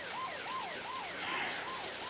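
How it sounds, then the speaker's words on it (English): An ambulance siren in a television advertisement wails in a steady, fast repeating up-and-down pattern, loud and continuous without pause. "You call an ambulance, I gotta get there."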